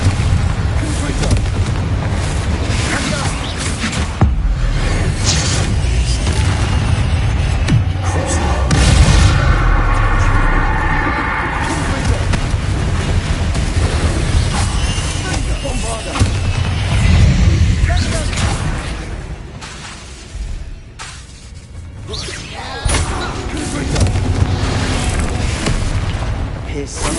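Repeated loud booming spell blasts from Bombarda and Confringo in Hogwarts Legacy, dense rumbling explosions one after another over game music, with a man calling out spell names.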